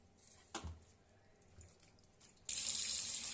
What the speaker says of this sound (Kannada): ಆ ನೀರನ್ನ ಹೊರಗಡೆ ಚೆಲ್ಬಿಟ್ಟು ಮತ್ತೆ ಇನ್ನೊಂದ್ಸಲ ಹಿಂಗೆ ತೊಳಿಬೇಕು.